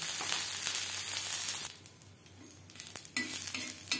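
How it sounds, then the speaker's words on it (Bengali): Neem leaves and eggplant slices fry over a low flame until crisp, a broad steady sizzle that drops quieter midway, broken by crackles and light stirring clatter. "নাড়াচাড়া করে নিম পাতা ক্রিস্পি করে ভেজে নেব।"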